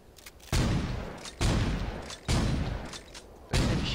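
Four heavy booming gunshots from Saints Row 2 at roughly one-second intervals, each a loud sharp blast with a rumbling decay, and no talk.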